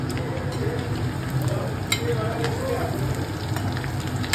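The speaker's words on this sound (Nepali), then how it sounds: "अब यता चाहिँ रोस्ट बनाउँदैछु म" Corn roasting in a pan for a home New Year party meal, giving a steady, continuous frying sizzle close by, with faint kitchen clatter and a voice talking over it.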